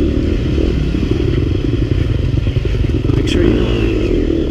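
Two dirt bikes, a Yamaha YZ250FX and a KTM 250 XC-F, ride a rough trail on the Razorback, their engines droning loudly and steadily with clattering and scraping over the terrain while a rider speaks briefly over the noise.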